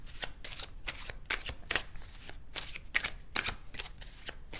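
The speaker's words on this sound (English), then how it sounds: "Let's shuffle again." A deck of tarot cards is shuffled by hand in a quiet room, with a steady run of crisp riffling and slapping bursts close to the listener.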